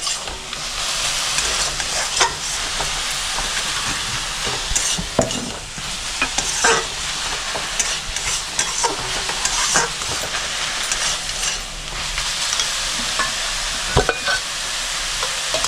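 Red spinach with peanuts is stir-fried in a pan, a continuous loud sizzle with the rough scraping of a spatula stirring through it, close up, with no voices.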